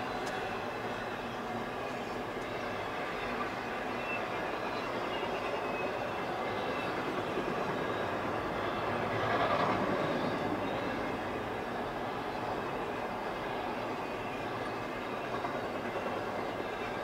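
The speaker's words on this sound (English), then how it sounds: "Symbol on that train was CSX" A CSX freight train rolls steadily past a railroad crossing, a continuous rumbling roar of wheels and cars that holds at an even level throughout, swelling slightly midway, with no talking.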